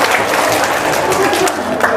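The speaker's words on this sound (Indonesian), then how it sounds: "Tepuk tangan buat si blow on." Brief burst of audience applause at a religious talk on paying off debts, a dense clatter of hands under overlapping voices, steady and moderately loud throughout.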